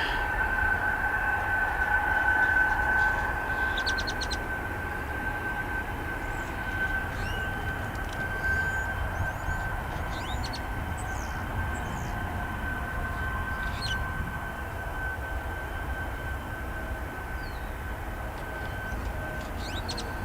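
An American Eagle flight landing at DFW Airport: a steady, broad engine roar with a thin whine runs throughout, moderately loud and somewhat distant, with scattered bird chirps over it and no talking.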